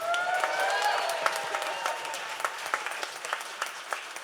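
Loud applause from a live podcast audience at Drygate, a dense wash of clapping hands that slowly thins into scattered, sharper claps toward the end, with no voices over it.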